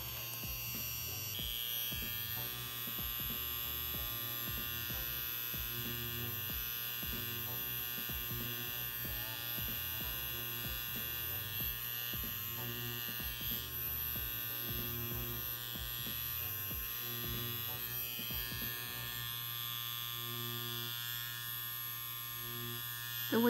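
A Hummingbird Bronc V1 wireless tattoo machine runs at 9 volts with a steady, close electric buzz and hum that holds unbroken throughout, with no talking.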